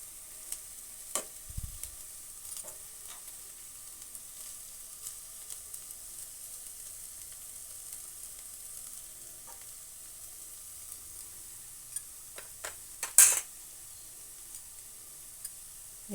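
Carrot being stir-fried in a pan for momo filling: faint, soft sizzling with occasional spatula scrapes and clinks, quiet and close, no talk.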